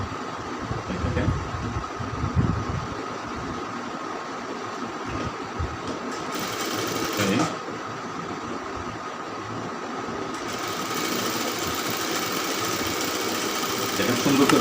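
A sewing machine stitches a rounded gol kameez shape, a close, steady mechanical rattle running throughout and growing louder and brighter in the last few seconds.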